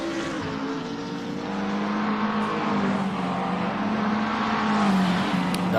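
McLaren 650S GT3 race car in a racing video game, its engine droning steadily with a sustained tonal note that rises and shifts through gears, loud and continuous with no voices.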